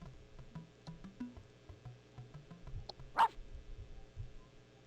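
A short, loud dog bark sound effect plays during a game show guessing game, cutting through a faint background of soft beeps and tones.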